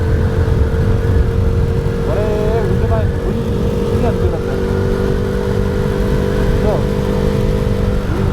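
A KTM Duke 390 motorcycle engine drones steadily while riding on a road trip from Sirsi to Goa, with wind rush throughout and voices partly buried under the engine noise.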